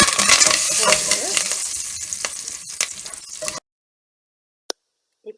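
Steady crackling sizzle of dried chillies, asafoetida and curry leaves frying in hot oil for a few seconds, then abrupt silence broken by a couple of faint clicks.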